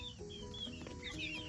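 Young chicks and chickens in a deep-litter coop cluck and chirp softly at close range, a quiet overlapping stream of short calls with no talking.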